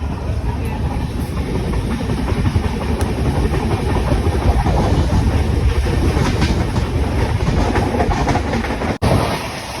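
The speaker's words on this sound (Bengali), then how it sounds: "পাশ দিয়ে হচ্ছে যে গাড়ি যাচ্ছে আর এই পাশ দিয়ে ট্রেন যাচ্ছে।" A train rumbles past up close, loud and continuous, with a rhythmic clatter of wheels on the rails and a low engine drone.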